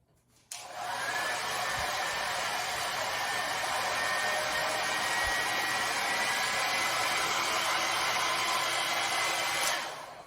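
A hair dryer on its lowest setting switches on and blows steadily with a soft, even whoosh and faint whine, then cuts off near the end.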